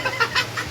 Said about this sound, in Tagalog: Di ba yung native na manok?